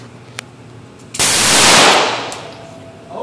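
A Springfield XDM 9mm pistol fired once, a sharp, very loud crack that rings out in a long, wide decay lasting over a second, preceded by faint background noise.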